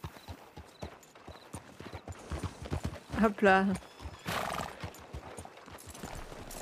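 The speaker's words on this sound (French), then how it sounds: "je peux plus sauter sur mon cheval" A video game horse clops along with rhythmic hoofbeats and lets out a loud, close whinny midway, while someone talks briefly in French.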